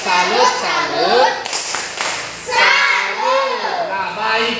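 Fourth-grade schoolchildren in a classroom chant together in a rhythmic 'tepuk salut' cheer. Their sing-song voices dominate, and a short burst of clapping sits between the chanted phrases.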